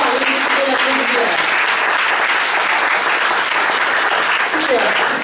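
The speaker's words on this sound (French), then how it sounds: "vous pouvez l'applaudir" Close, loud audience applause after a product presentation, dense and steady throughout, with faint voices or music tones murmuring underneath.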